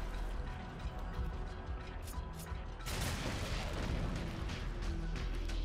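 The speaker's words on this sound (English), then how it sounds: "grab a shadow bomb and toss it over to the remaining corrupt crystals and shoot it with your redemption pistol" In Darksiders 2, a shadow bomb near corrupt crystals is shot with the redemption pistol and bursts into a sudden broad boom partway through, following a stretch of quieter low game rumble and mechanism noise.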